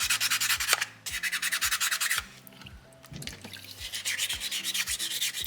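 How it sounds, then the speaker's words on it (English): Sandpaper scrubs back and forth across a soapstone owl carving in quick rhythmic strokes, close and clear, with a brief pause midway and no talk. "Scrubbing that sandpaper across the stone."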